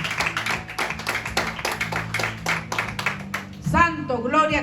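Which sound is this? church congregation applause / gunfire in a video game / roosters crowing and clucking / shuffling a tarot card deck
church congregation applause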